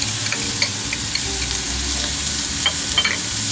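Fajita vegetables with jalapeno and garlic sauté on a Yoder YS640, giving a steady, close, bright sizzle with occasional soft stirring scrapes throughout.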